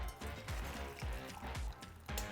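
Boiling water just used to steep onions is poured out, a series of splashing, gurgling pulses at roughly half-second intervals, close and fairly loud.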